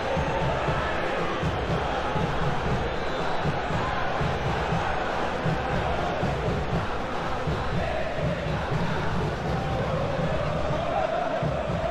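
A stadium crowd in the football video game PES 2021 keeps up a dense, steady roar through a Persija Jakarta versus Bali United league match, a constant wash of cheering with no breaks.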